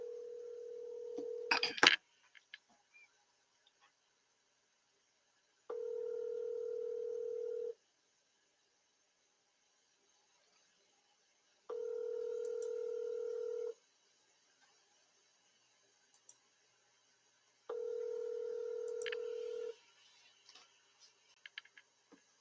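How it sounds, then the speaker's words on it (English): An outgoing telephone call rings on the line: a brief burst of clicking and keying, then three evenly spaced ringback tones, each about two seconds long with quiet gaps between, clear and alone. "So I'm going to call him now and let you guys listen on the call."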